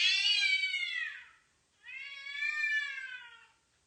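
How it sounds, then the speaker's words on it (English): A domestic cat gives two drawn-out, close meows in a row, each rising then falling, with a short pause between and no other sound. "Normal cat."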